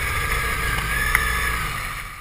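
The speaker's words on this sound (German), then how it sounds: "Die Motoren bei Uwe und Heiko laufen schon." Uwe's and Heiko's engines idle together at departure, a steady low droning hum with a faint whine above it and no clear change in pitch.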